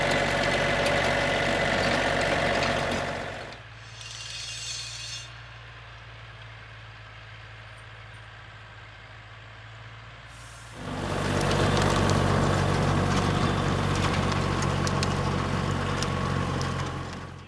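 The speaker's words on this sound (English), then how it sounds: "It's Alden's first time on the John Deere." A John Deere tractor engine runs steadily and loud on a field being planted for food plots, dropping to a quieter low idle for several seconds before revving back up to full working power.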